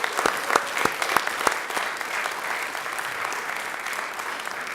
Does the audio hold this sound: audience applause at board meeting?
yes